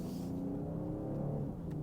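A 2023 BMW 540i M Sport's engine hums smoothly while accelerating through a turn, a steady low rumble heard from inside the cabin, quiet and even with no talk.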